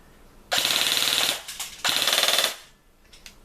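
An airsoft MP5SD with a standard gearbox fires on full automatic. Two loud, close bursts of rapid mechanical clatter are separated by a short pause, and no one speaks.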